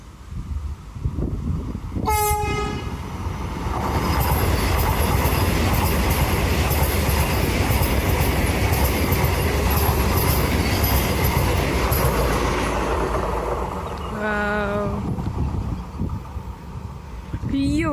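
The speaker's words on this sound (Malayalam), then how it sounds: "ഓക്കെ, വന്ദേ ഭാരത് വരുന്നുണ്ട് ഗൈസ്." A Vande Bharat express train at Munroe Island in Kerala sounds its horn, then thunders past with sustained loud rumbling and wheel noise for over ten seconds, with a second horn blast as it goes.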